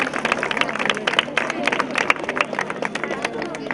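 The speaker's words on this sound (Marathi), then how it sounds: "जोरदार टाळ्या वाजत राहू द्या" An audience at a Salam Satara event held by the Shivtej Group in Shahupuri claps loudly and steadily, producing dense, continuous applause with a faint crowd murmur underneath.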